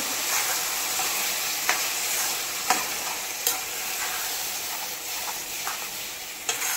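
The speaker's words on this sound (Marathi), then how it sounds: "पहा आता प्युरी ही इथे जोवर तेल सोडत नाही तोवर आपल्याला फ्राय करायचं आहे." Tomato puree frying in oil for pav bhaji, with a steady close hiss of sizzling and a few sharp scrapes and clicks from a spoon stirring at irregular intervals; no voices.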